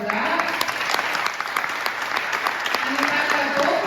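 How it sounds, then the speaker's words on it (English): Sustained applause from a convention audience at a progressive political gathering, dense steady clapping filling the room for several seconds with some crowd noise mixed in. "So round of applause for that"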